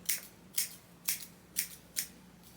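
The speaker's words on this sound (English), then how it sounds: "I'm going to take my thinning shears" Thinning shears snipping through crochet hair, five crisp close cuts in an even rhythm about half a second apart, each a short sharp metallic slice.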